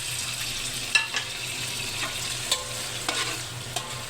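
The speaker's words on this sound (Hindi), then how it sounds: "प्याज हमारे पकना स्टार्ट हो गए।" Onions sizzle steadily in a pot with whole cinnamon, black peppercorns, cloves and black cardamom for mutton shorba. A spoon knocks and scrapes now and then, close and with no talking.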